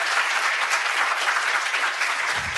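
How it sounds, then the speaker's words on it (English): A lecture audience at an ocean science class claps briefly after a talk, a close, dense burst of many hands sustained evenly across the short moment. "I would like to ask a round of applause to Jake Rice."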